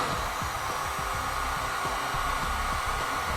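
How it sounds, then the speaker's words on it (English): A heat gun blows steadily and fairly close while shrinking heat-shrink wire connectors during replacement of a Kwikee RV electric step motor and control, a constant airy roar with faint low thumps underneath and no talk. "I'm going to be using a heat gun to shrink down the connectors"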